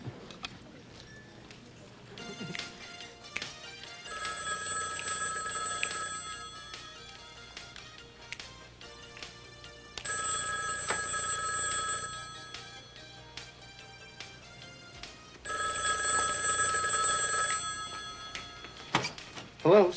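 A telephone rings in a home in three long bursts of bright, trilling bell tones separated by pauses, with quiet background sound and faint voices between the rings.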